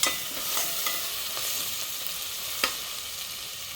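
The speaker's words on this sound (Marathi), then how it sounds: "आता ह्यामध्ये मी आलं, लसूण, मिरची, कोथिंबीरचं वाटण घालते। ते देखील आता चांगलं तेलामध्ये परतून घ्यायचं आहे।" A paste of ginger, garlic, chili and coriander is sautéed in hot oil for prawn rice. A close, steady sizzle and hiss runs throughout, with brief scraping stir strokes breaking through now and then.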